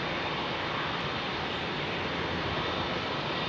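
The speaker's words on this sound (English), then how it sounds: "It's the British Airways Airbus fleet coming out in formation on the taxiway." British Airways Airbus jets taxi in a line at Heathrow, giving a steady, dense engine roar with a faint high whine that holds without letup throughout.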